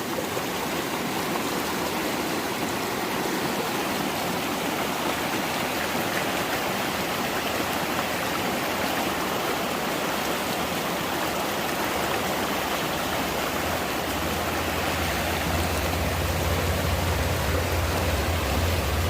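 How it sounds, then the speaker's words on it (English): Spearfish Creek running fast and cold, a steady broadband rush of flowing water close by, unbroken for the whole stretch with a slightly deeper rumble joining near the end and no one speaking. "Spearfish Creek."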